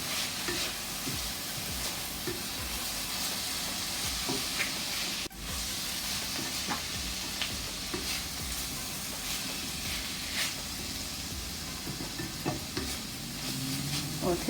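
Dark molasses-sweetened mixture for Jamaican Solomon Gundy stirred in a hot pan, with a steady sizzle and frying hiss throughout and occasional spoon scrapes and clinks, close and alone without talk.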